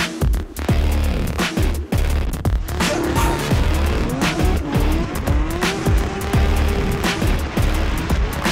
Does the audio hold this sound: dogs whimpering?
no